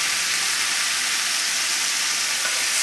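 Butter sizzles steadily in a pan over medium heat as ingredients sauté, a dense, even frying hiss with no talk, close and constant throughout.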